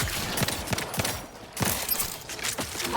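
Repeated gunfire from a slow-firing gun in the sci-fi shooter game Outer Worlds 2, loud, sharp reports spaced unevenly over a busy combat soundscape.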